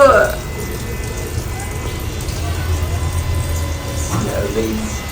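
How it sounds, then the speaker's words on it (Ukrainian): Water runs steadily from a tap in a restroom at Stanford University, a continuous hiss and splash at close range with a brief sharper gush near the start and again near the end. "Лється водичка"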